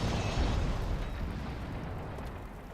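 A loud, booming artillery shell explosion in the tank battle game World of Tanks Classic, a single heavy blast with a long rumbling decay that fills the whole clip.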